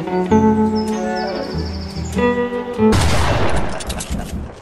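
Video game gunfire from an Uzi submachine gun rattles out in a rapid, dense burst in the second half, following a stretch of layered in-game tones and music-like effects, with no voices over it.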